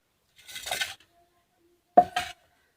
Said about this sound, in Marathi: आता आपण इथं अगोदर भेंडी चिरून घेऊ व्यवस्थित